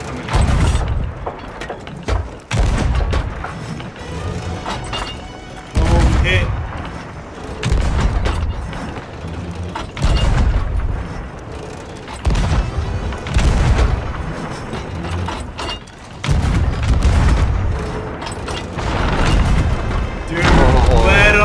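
Repeated heavy cannon booms and thudding cannonball impacts in a pirate-themed video game battle, loud and irregular bursts under near-constant excited talk from several players.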